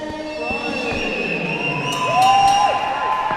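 An MMA event crowd cheers and applauds for the fighters, a steady roar of voices with whistles and shouts rising louder midway, heard from within the arena.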